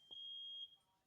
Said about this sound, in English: excuse the fire alarm going off